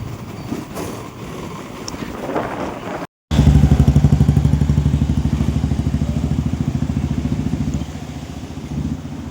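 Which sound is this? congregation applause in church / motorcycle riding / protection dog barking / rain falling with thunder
motorcycle riding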